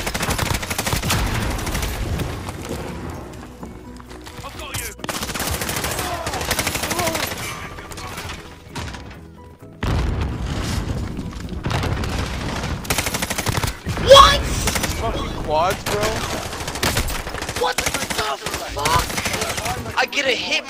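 Automatic gunfire from a Call of Duty Warzone match, with dense bursts of rapid shots and sharp cracks, brief pauses, and a loud impact near the middle, with players talking in between.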